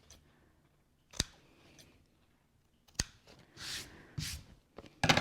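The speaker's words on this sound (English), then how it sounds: "So just get my scissors." Sharp scissor snips trim sewing threads and fabric corners on a cylindrical case: a few crisp, isolated cuts spaced a second or two apart in a quiet room, with soft handling rustles between them.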